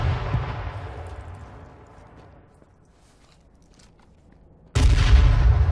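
Booming bomb explosions in a video game: one heavy blast rumbles and slowly fades into near quiet, then a second loud explosion hits abruptly near the end.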